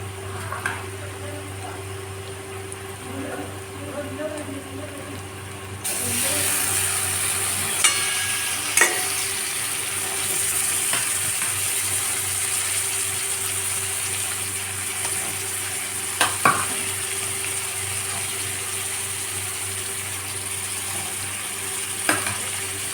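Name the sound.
mutton being stirred and fried with onions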